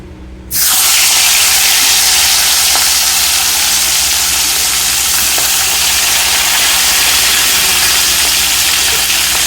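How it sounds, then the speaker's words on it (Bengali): Rohu fish heads drop into hot oil, setting off a sudden loud, dense sizzle that surges up and then holds steady and close for the rest of the clip, with no talking. "তো তেল ভালোভাবে গরম হয়ে এসেছে, তারপর আমি এতে মাছের মাথাগুলো ভাজতে দিয়ে দিচ্ছি।"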